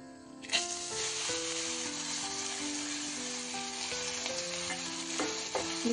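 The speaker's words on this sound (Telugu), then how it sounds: "నెయ్యి వేసుకొని ఇది పచ్చి వాసన పోయేంత వరకు మనం సొరకాయ తురుమును ఫ్రై చేసుకోవాలి." Shredded bottle gourd sizzles and crackles in hot ghee in a pan, a loud steady frying hiss with occasional stirring clinks, close up and with no talk.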